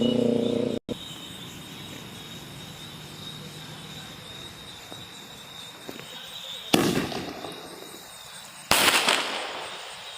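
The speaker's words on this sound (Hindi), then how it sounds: "तो चलिए एक एक करके जलाते हैं सारे स्काई शॉट को।" Diwali sky shot fireworks are lit outdoors at night. After a quiet stretch of faint insect chirping, two loud, sharp bursts go off a couple of seconds apart, each trailing off in a short crackle.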